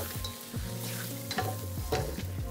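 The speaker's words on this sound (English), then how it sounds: "A little bit of white pepper again, and then toss everything together." A pad see ew with prawns stir-fried in a wok, steady loud sizzle under rhythmic tossing and scraping of the spatula, several quick strokes close to the pan with no talking.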